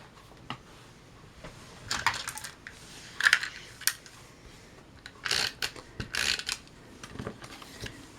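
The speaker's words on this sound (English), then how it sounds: "tape these two pieces down." Tape being pulled off and pressed onto paper card pieces for a handmade birthday card, a series of short crackly rips and taps in uneven bursts, close and fairly loud against a quiet background.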